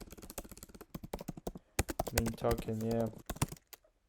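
Quick clicks of typing on a computer keyboard, irregular taps in bursts, with someone speaking briefly over them in the middle.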